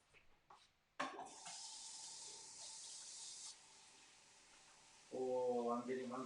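A kitchen tap runs steadily as hands are washed during a live cooking session, a close, bright rush of water that later changes to a splashier flow as a voice talks.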